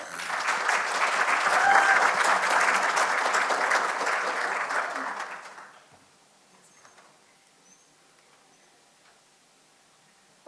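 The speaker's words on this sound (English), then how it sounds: "let's give it a clap" At a research symposium, an audience claps after a presentation, a full round of applause for about five seconds that fades to near silence, followed by faint room noise and small clicks.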